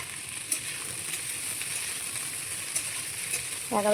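Eggplant slices fry in a pan on a home kitchen stove, giving a constant soft sizzle with a couple of faint clinks, and a brief voice sounds at the very end.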